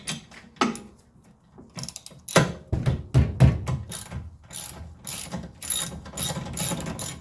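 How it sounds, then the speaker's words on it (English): A ratchet with a 7mm socket loosens brake bolts on a Mercedes-Benz AMG, making repeated bursts of quick, close mechanical clicking with short pauses between strokes. "You gotta loosen up bolts before you get excited."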